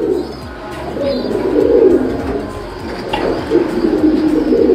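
A weakened Japanese racing pigeon and other pigeons coo steadily nearby, with low, throaty rolling calls overlapping in a continuous warble and faint chirps now and then.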